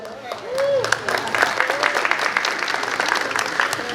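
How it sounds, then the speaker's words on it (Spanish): Wedding guests break into sustained applause at a reception, a steady dense clatter of many hands lasting the whole stretch, with voices and a few whoops mixed in over it. "para quien pedimos un fuerte aplauso"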